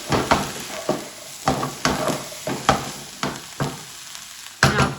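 Pulao being stirred with a spoon after chopped lemon is added in a pan, giving repeated scraping strokes about every half second over a steady sizzle, close and fairly loud, with no talking.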